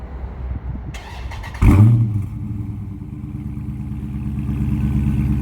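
A Dodge Charger 392 V8 starts up with a loud crank and burst at about two seconds, then settles into a deep, steady idle rumble through the factory exhaust, close and alone.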